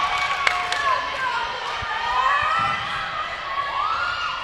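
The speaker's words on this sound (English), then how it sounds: "The crowd behind me is definitely glad to see Pasadena make that hit." A crowd cheers and shouts at a girls high school volleyball match, Pasadena at Arcadia, with a play-by-play commentator talking over the roar of the gym.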